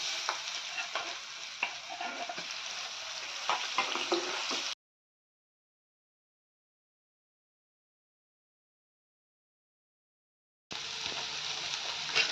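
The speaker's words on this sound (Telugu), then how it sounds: "ఇలా బెండకాయని మీడియం ఫ్లేమ్లో ఉంచుకొని ఇలా మధ్య మధ్యలో తిప్పుతూ ఉండాలి, లేదంటే కింద అంటుకుంటుంది" Okra and onions fry in a pan over medium flame with garlic and turmeric, a steady close sizzle broken by stirring scrapes, then several seconds of silence before the sizzling resumes.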